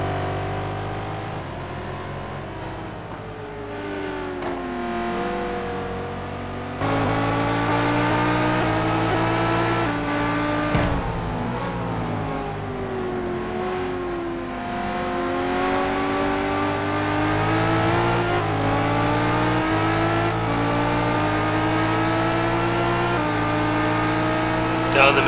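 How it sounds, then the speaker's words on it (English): In a sim racing game, a Lamborghini Gallardo and a Corvette race on a circuit with continuous engine roar and rising, falling revs through gear changes, while a commentator talks over the engine noise. "Down the main straight we go, on board the Lamborghini, closing back up behind the Corvette."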